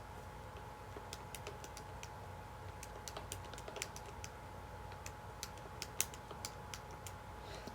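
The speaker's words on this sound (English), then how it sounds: "So if I type that into my calculator," Rapid light key presses as numbers are typed into a calculator, quiet clicking taps in an irregular rhythm over a faint background hum.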